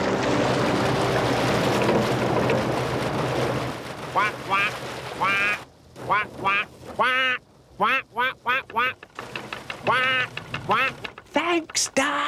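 A duck quacks repeatedly in short bursts alongside a canal narrowboat, a dense engine-like rumble fading out first, then sharp quacks alternating with brief pauses, close and loud.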